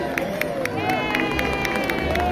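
Crowd cheering at Disneyland's Candlelight Processional, a distant hubbub of voices and scattered claps with a sharp intermittent sound repeating throughout, moderately loud.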